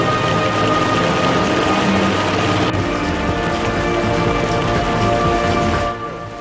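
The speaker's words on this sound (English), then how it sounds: "Oh, the rain is strong." Heavy rain in Cozumel, Mexico pours steadily, a dense continuous hiss of drops drumming on surfaces nearby.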